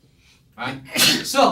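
A single sharp sneeze bursts out loud and close in a lecture setting, followed by a second explosive burst, with a brief spoken phrase just before it.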